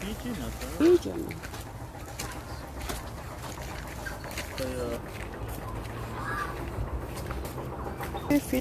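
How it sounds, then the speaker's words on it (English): Pigeons coo in a zoo enclosure at Nature Park in Port Moresby, with soft, low calls scattered among other birds and a busy outdoor murmur, while people talk nearby. "Pigeon."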